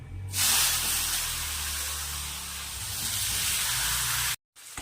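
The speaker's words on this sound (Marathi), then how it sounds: "आता यामध्ये स्वच्छ धुतलेली कोबी टाकायची आहे" Freshly washed cabbage hits hot oil in a pan and erupts into a loud, steady hissing sizzle that holds for about four seconds, then cuts off sharply, with no talking over it.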